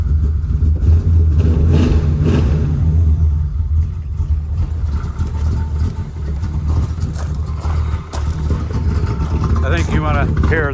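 A struggling car engine with a rough, unsteady idle at closed throttle rumbles low and continuous throughout, with faint uneven surges under steady background noise.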